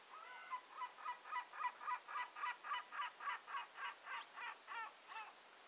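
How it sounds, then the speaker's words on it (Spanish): Gulls on land give a long rhythmic series of laughing calls, a steady run of about a dozen evenly spaced notes, moderately distant and fairly faint over a quiet background. "las gaviotas se ríen"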